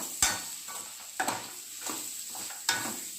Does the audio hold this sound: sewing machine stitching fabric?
no